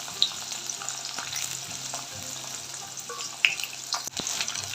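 Onion, green chilli and brinjal frying in a pan with whole spices, a soft steady sizzle with occasional spoon clinks and scrapes, quiet and close, no voices.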